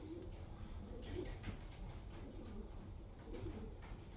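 A racing pigeon gives soft, faint coos in a quiet room, several low murmuring calls spread across a hushed background hum.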